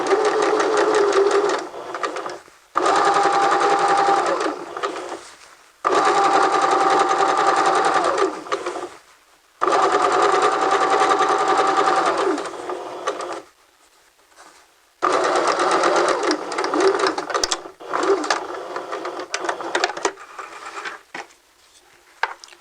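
A sewing machine runs a guide stitch across folded fabric in several loud bursts of steady whirring, separated by short pauses, with no talking.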